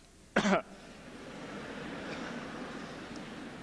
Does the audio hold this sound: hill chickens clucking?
no